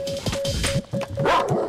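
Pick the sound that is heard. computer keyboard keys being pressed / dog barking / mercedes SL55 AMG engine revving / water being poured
dog barking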